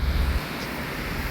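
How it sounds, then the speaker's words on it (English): Strong wind gusting outdoors in Bolingbrook, Illinois during a dust storm, a steady loud broadband roar buffeting the microphone with heavier low rumble at the start, no voices. "it's so windy"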